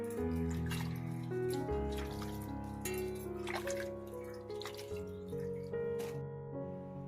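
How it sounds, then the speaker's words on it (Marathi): Sweet potatoes are washed by hand in water for a fasting-day sweet dish, giving soft splashes, drips and sloshing against a steady background hum, with no talk. "हे रताळे आहेत ते सर्वात प्रथम धुवून घेऊया."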